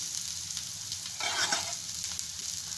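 Cabbage, carrot and ginger stir-fry in a pan with a steady close sizzle, a brief louder burst of crackling and scraping in the middle as the vegetables are mixed.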